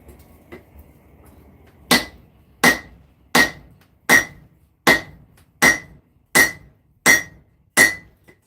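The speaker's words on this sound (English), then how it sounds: "All right, let's keep hammering and see what happens." Hammer blows ring on hot steel during knife forging, nine sharp metallic strikes in a steady rhythm after a quiet start, each with a bright clanging ring, close and loud with no talking.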